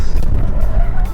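An Audi Q7 45 TFSI being pushed hard through a corner, with loud continuous tire and road roar and a low engine drone, close and steady throughout, with no speech over it.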